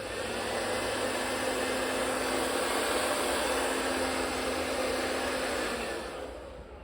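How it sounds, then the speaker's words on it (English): A hair blow dryer runs on its low setting, giving a steady, even airy whir with a faint motor hum for several seconds before tapering off at the end. "Now you're going to go in with your blow dryer. You're going to put it on low."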